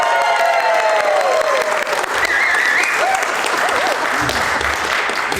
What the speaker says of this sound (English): when I say my name, y'all are gonna clap